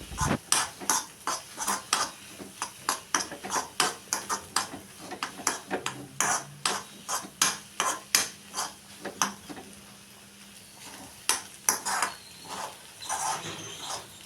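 Metal utensil repeatedly clinking and scraping against a pan while egg fries for homemade fried rice, sharp close taps in a steady rhythm with brief pauses, no talking.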